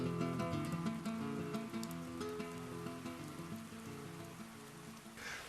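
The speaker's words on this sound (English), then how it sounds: "It's pouring with rain out there, but we're dry in here." Heavy rain pouring steadily outside a rock overhang, a dense continuous hiss close by, with tonal music sounding throughout.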